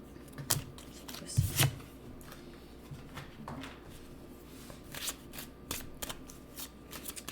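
Tarot cards riffled and shuffled by hand in a quiet room, with sharp papery bursts of flicking and snapping cards at intervals between softer handling rustles.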